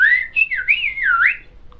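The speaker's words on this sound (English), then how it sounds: "You're blowing your whistle." A person whistles a bird-like call, one continuous sliding and wavering melody that rises and falls in pitch, loud and close with no other sound.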